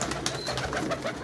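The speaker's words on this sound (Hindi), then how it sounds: "ये आल टू आल टैडी कबूतर हैं" Teddy pigeons at a breeder's loft, their soft cooing carrying close by in a short, steady murmur with no talk over it.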